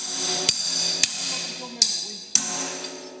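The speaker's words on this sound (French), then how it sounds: "On tape bien à plat, car si on tape avec les côtés, on risque de blesser la tôle." Hammer blows flattening thin sheet-metal panels before tack welding, four sharp metallic strikes spaced about half a second apart, each ringing briefly over a steady background hum.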